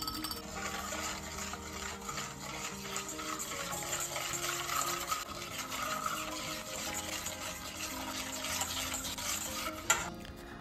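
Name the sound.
whisking milk, oil and eggs in a bowl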